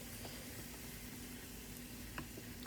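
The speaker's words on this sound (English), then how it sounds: "Just continue to mix it up and let it stir fry for a bit" Purslane stir-frying in a pan, a steady close sizzle and hiss with a few faint utensil clicks near the end, no voices.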